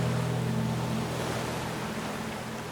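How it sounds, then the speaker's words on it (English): Ocean water and surf washing steadily near a redwood coastline, a continuous broadband wash with a low droning hum underneath, fairly loud and unbroken throughout, with no voices. "and the sound of the water."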